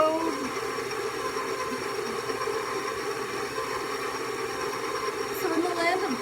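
An electric mixer runs steadily through butter tart filling, a constant motor whine and hum that stays close and even, with a person talking over it.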